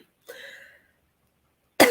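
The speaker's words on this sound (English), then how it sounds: "That was just a genuine cough." A single short, dry human cough sounds close and clear in an otherwise quiet room, followed by silence and then the start of speech.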